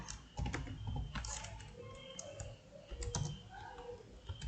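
JavaScript code being typed on a computer keyboard makes a steady run of fast, close key clicks with uneven rhythm that continues throughout, with no talking.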